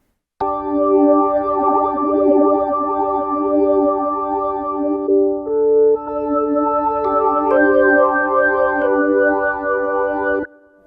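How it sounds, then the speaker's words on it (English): A sustained electric guitar chord through phaser and flanger effects on a Legend Soul 261, with sweeping, swirling modulation that makes the tone whoosh and shimmer, played alone and loud for about ten seconds. "And there's also phase, flange."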